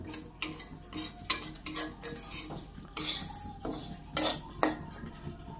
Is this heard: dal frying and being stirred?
yes